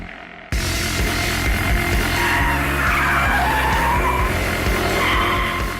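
BMW M5 in full track mode smoking its tyres on a track, a sudden loud onset of screeching tyre squeal over a continuous revving engine roar, sustained and close for several seconds.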